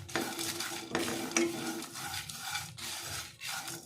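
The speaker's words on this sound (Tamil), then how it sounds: "1/4 கப் பொட்டுக்கடலை எடுத்துருக்குறேன், அதையும் இதில் சேர்த்து வறுத்து எடுத்துக்கலாம்" Roasted gram dal being dry-roasted and stirred in a pan, with repeated scraping and rustling strokes and faint sizzle at close range.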